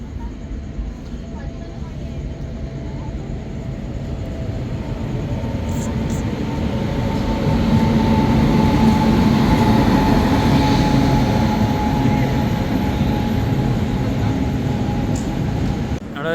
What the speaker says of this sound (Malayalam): ട്രെയിൻ വരുന്നുണ്ട്.